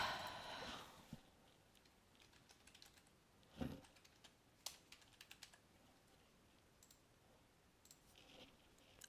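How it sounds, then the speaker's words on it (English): Scattered keystrokes tap on a computer keyboard, faint and irregular with short clusters and pauses, after a brief louder rustle at the start in a quiet room. "I'm typing things."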